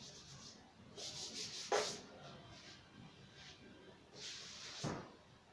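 A duster or hand rubs across a board to erase writing during a maths lesson, giving soft continuous scrubbing strokes with a couple of sharper scrapes, fairly faint and without talk.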